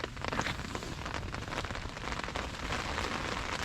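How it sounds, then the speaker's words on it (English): Heavy rain falls on a canal during a storm, drumming steadily on nearby surfaces with dense, close patter that holds constant throughout. "that rain's coming down."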